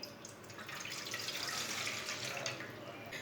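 Water poured from a steel glass into a pot while cooking apple murabba, a steady splashing pour lasting a few seconds, close and fairly loud.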